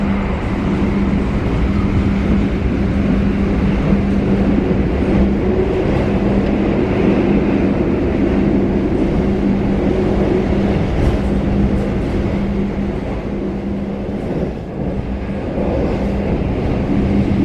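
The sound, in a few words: Argo Bromo Anggrek express train running at speed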